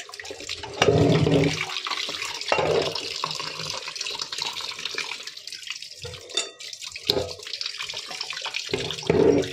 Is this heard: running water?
yes